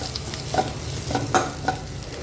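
Sugar stirred into golden fried onions in a pan for sweet upma, a spoon scraping in a few soft strokes over a low steady sizzle.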